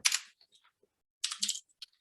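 Quick bursts of keystrokes on a computer keyboard, two short clusters of crisp clicks separated by a pause, close and quiet.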